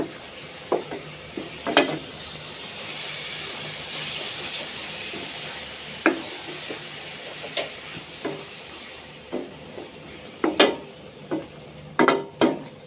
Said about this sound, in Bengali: দেখুন আমি পাঁচফোড়নটা দিয়ে সুন্দর করে নেড়ে নিলাম।